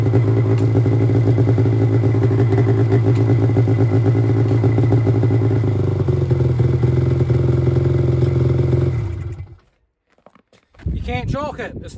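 A Polaris Fusion 900 snowmobile engine, fuel injected and with a faulty ignition and kill switch, runs loud and close with a steady rumble for about nine seconds, then cuts out abruptly before a brief revving burst returns.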